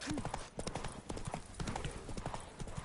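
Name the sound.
horse hooves clip-clopping in video game The Witcher 3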